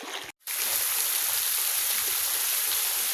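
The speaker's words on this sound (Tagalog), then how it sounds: "Titestingin na natin kung malakas talaga yung ano, pressure ng buga ng tubig." Pump spraying a strong jet of water into a concrete tilapia fishpond, a loud steady hissing rush that starts after a brief pause and continues unbroken.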